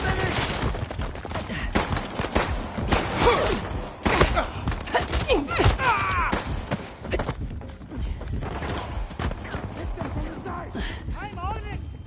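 Gunfire in Uncharted: The Lost Legacy cracks in repeated sharp bursts amid a chaotic firefight, mixed with shouting voices and game effects, loud and dense throughout.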